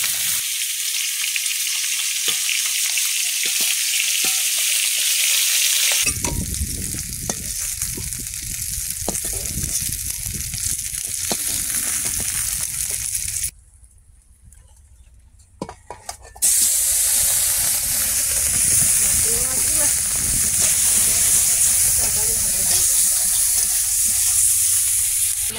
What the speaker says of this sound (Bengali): মাছগুলো ভেজে নেওয়া হয়, সব ভাজা হয়ে যায় মাছগুলো